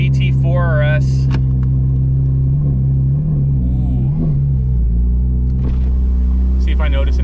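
A straight-piped Porsche GT4 RS drives with a loud, deep, continuous exhaust rumble right up close, with a few swells in pitch. People talk over it briefly.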